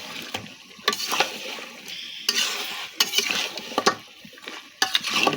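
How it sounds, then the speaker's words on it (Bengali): Beef being stirred and fried in a pot, with repeated scraping strokes of a spatula against metal every second or so over a soft background sizzle, close and clear, no talk. "মাংসটা এখন কষাই নেব।"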